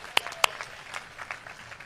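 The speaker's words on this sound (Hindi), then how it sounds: "हासिम के सम्मान में एक बार जोरदार तालियां हो जाए" An audience at a Hindi poetry gathering applauds in honour of the poet Hasim, opening with two sharp, distinct claps and then a lighter, scattered patter of hands at moderate, fairly distant volume.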